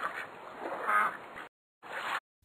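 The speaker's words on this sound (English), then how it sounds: "duck," A duck quacks in a children's vocabulary lesson, two loud raspy quacks separated by a brief pause, heard alone.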